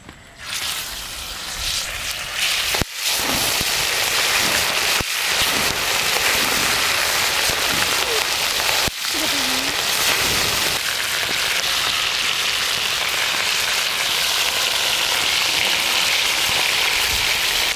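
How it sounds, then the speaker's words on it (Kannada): Fish frying on a flat tava in hot oil, village-style fish masala, giving a steady, dense hiss and crackle that holds loud and constant throughout, with a few brief dips and clatters early on. "ಈಗ ಎಣ್ಣೆಲಿ ಮೀನನ್ನ ತವಾ ಫ್ರೈ ಮಾಡ್ಕೊಳ್ಳೋಣ"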